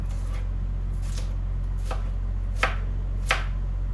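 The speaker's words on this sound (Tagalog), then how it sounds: "So I'm just gonna cut the last part." A knife cutting the last part of a cleaned onion on a board: five crisp, evenly spaced chops, the last two sharper and louder, over a low steady background hum.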